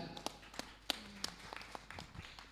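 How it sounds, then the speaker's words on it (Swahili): A memorial service congregation claps in scattered, uneven beats, some sharp and some soft, fairly faint and distant. "Tumpigie makofi tafadhali."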